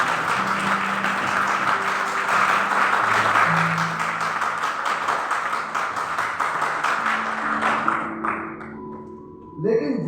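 Audience applause fills a hall, loud and steady clapping for about eight seconds under background music, then tapering off and fading near the end.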